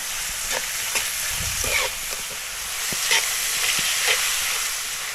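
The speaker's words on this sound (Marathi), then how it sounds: "आणि हा कांदा आपल्याला चांगला असा नरम करून घ्यायचा." Onion softens in hot oil in a pan, a continuous close sizzle broken by the scrapes and knocks of a stirring spoon, with no talk.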